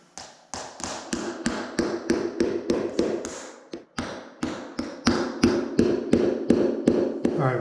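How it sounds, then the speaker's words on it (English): A hammer drives 4D finish nails into an RV valance in a fast, even run of about twenty sharp, close knocks. One brief pause splits the run partway through. "we're going to nail that with, these are 4D finish nails"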